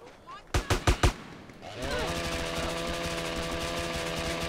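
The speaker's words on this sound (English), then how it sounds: "now we're chainsawing" Chainsaw weapon in a video game: a few sharp shots, then a steady, loud buzzing engine drone that runs continuously to the end.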